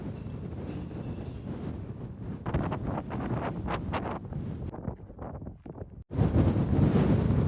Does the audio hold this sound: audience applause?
no